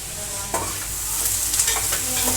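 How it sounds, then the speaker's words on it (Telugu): Chopped onions with salt fry in a pan with a loud, steady hissing sizzle, and a few stirring scrapes come through over it. "ఉల్లిగడ్డ దూరగా వేగనివ్వాలి"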